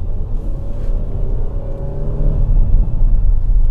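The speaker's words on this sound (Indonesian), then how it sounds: "Kemudian ini kita mau coba ya hybrid ini, tarikannya gimana?" A Toyota Innova Zenix Q Hybrid accelerates, its engine and road rumble heard loud and close from inside the cabin, the pitch rising steadily as the drone builds over a few seconds, with no talking.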